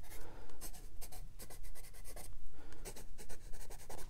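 Watercolor pencils scribble rapidly across paper, roughing in leaves with a dense run of quick scratchy strokes, close and fairly loud with brief pauses between bursts.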